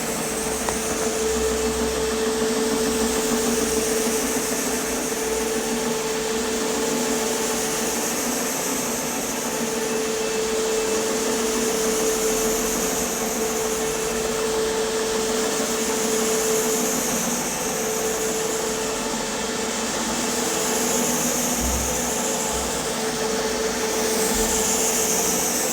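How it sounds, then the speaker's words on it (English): CRB carpet cleaning machine running over carpet, a loud continuous motor whine and brushing drone with a steady tone, close by and unbroken, without any talk. "then we'll get our CRB over this next, and we'll show you as it starts to lift the dirt and hair."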